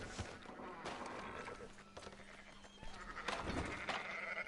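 Sheep bleat faintly in a busy Red Dead Redemption 2 game soundscape, several calls over steady background noise and hoof-like clatter, with no talking.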